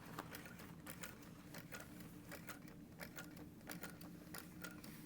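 A sewing machine stitches through a quilted vinyl bag panel, a fast, even ticking run of needle strokes that sounds faint and steady throughout.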